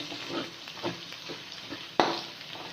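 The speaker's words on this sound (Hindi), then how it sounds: "ये तमाम जो से मसाले हमने डाल देने हैं और इनकी बुनाई कर देनी है।" Whole spices roasting in hot oil in a pan for matar pulao, giving a soft, steady sizzle with rhythmic stirring scrapes and one sharper clink near the end, close by and without talk.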